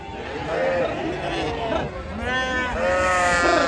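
Sheep bleat loudly at a large livestock market selling goats, sheep and chickens, several overlapping wavering calls close by over a steady murmur of crowd chatter.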